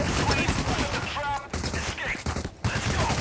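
Dense gunfire and explosions from the heist shooter Payday, sustained bursts of shots with brief gaps, loud and close, under talk from players.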